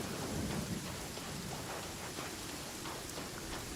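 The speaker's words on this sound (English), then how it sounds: "Oh, and it's raining." Game rain and thunder from Genshin Impact form a steady hiss of falling rain with a low rumbling thunder underneath, continuous and even, with no voices.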